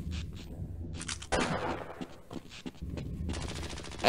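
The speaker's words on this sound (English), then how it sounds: "I like the gunshot background over here." Rapid bursts of automatic gunfire rattle in the background of the video game Half-Life: Blue Shift, fairly faint and continuous with brief volleys rising and falling.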